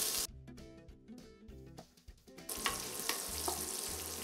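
Bacon frying lightly in a pan for pinhão farofa, starting quiet with a few soft clicks and then rising into a steady close sizzle with occasional brief knocks.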